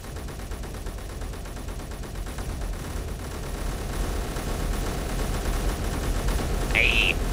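Ship cannons fire in the game Space Engineers, a rapid, continuous stream of heavy shots and rumbling impacts that builds slightly in loudness, with a brief high electronic tone near the end.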